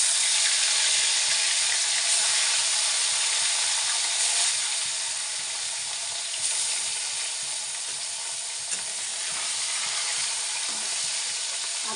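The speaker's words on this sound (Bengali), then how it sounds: "আর বাকিগুলো ভাজবো" Pieces of rohu fish frying in a pan, a loud continuous hissing sizzle that holds steady throughout with a few faint stirs.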